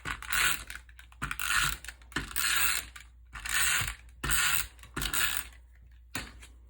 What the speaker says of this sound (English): So I'm going to use some rolling adhesive.